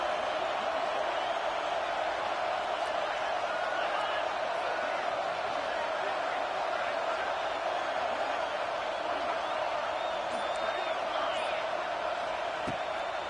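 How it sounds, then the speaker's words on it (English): Stadium crowd at a football game on Saban Field during a third down, a dense continuous roar of noise filling the whole stretch, loud and steady with no clear individual voices. "The Tide crowd rolling noise down onto Saban Field on third down."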